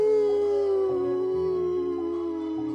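An old hound dog howling as a storytelling sound effect, one long sustained wavering howl that stays loud and close throughout, with a steady tone behind it.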